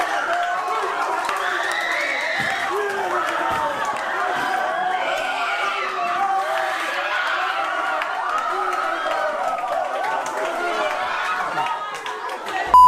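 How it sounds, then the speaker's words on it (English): Dense crowd roar fills an arena or stadium after a shocking incident, a steady wall of overlapping shouts, chatter and cheering sustained throughout at high level, dipping briefly near the end. "I've never heard anything as loud as the crowd reaction in that situation"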